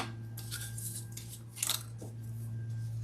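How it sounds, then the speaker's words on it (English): Scissors snip through a fabric scrap while a crossbody bag is being sewn. The few quick, faint cuts sit over a steady low hum. "I just have a scrap piece and I'm just going to cut that"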